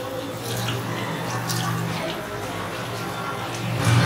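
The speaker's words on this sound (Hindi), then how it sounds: "अब आप इसके ऊपर 1-2 गिलास ठंडा पानी डाल दीजिए" Cold water is poured over boiled noodles in a sieve set above a pot, giving a steady, even splashing and trickling stream that swells slightly at the end.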